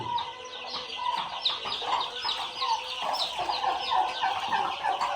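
Dense, continuous high-pitched peeping and chirping from a flock of two-day-old turkey chicks, close and busy, with occasional clucks mixed in.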